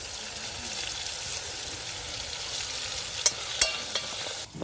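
Onions, tomatoes, crushed garlic and curry leaves fry in a pan for a prawn mango curry, making a continuous moderate sizzle with a few sharp utensil clicks near the end, with no voices.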